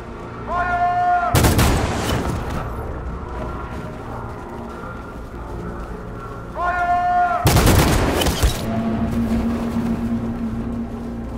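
Two heavy gunshot volleys are fired on unarmed protesters in the video game Detroit: Become Human, each a loud, sharp blast with a booming tail. Tones and a low rumble sit beneath, and speech is faint.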